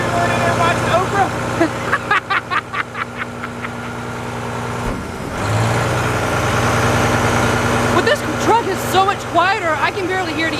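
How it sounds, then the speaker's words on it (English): A Republic Services garbage truck engine idles with a low, steady rumble, close by, while a person talks over it and some clanking and squeaks come and go. "Quieter, I can barely hear the engine."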